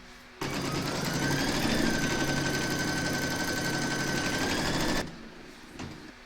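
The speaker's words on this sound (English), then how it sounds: "Load your file into your machine, and then you're going to stitch round number 1, and that's going to give you a placement outline for your batting" An embroidery machine stitches a placement outline for a shark bookmark, a fast, steady mechanical rattle of needle strokes lasting about five seconds, close and even, then stopping abruptly.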